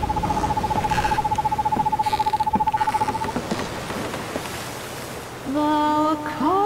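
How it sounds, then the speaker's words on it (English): Owl hooting inside the video game Perception: a steady, rapid run of even hoots fills the first half, then fades out, and a sharper, higher electronic-sounding call rises near the end, with no talk. "If it's an owl."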